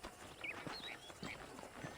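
Horse hooves clip-clopping at a walk in the Red Dead Redemption video game, a light steady rhythm of soft clops, fairly faint, with birdsong chirps over the outdoor ambience.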